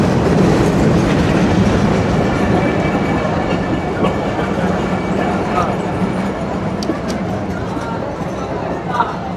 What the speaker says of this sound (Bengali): নির্ধারিত সময়েই কাটাখালী রেলওয়ে স্টেশনে প্রবেশ করছে মংলা কমিউটার